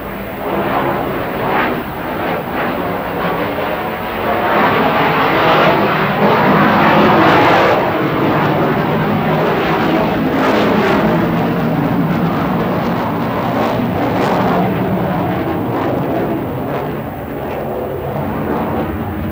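A two-seat military jet takes off at a 1984 open-house air show at Værløse air base. Its engine roar is loud, broad and sustained, swelling slightly and then easing over about twenty seconds.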